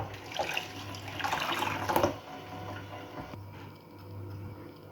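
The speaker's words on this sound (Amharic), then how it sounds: "ከለሩን ቆንጆ እንዲያደርግልን ደጋግመን ማጠብ ይኖርብናል" Barley grain is rinsed under a running kitchen tap while preparing an Ethiopian soup, a steady splashing wash of water that swells briefly and then settles, with no talk.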